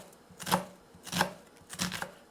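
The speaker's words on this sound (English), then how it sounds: "Nice fine dice on the onions." Three crisp knife chops on onions being cut into a fine dice, evenly spaced about two-thirds of a second apart, close and clear with no talking.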